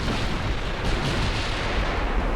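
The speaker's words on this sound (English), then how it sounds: "Torpedo hit." A torpedo strikes a warship in a naval battle game set in the dreadnought era, producing a heavy booming explosion with a rumbling, crackling roar that stays loud and dense throughout.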